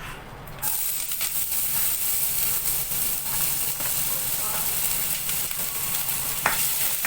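Ginger sizzles in hot oil in a pan, a steady close, loud frying hiss that begins abruptly after a brief quieter moment and carries on evenly, with faint stirring scrapes.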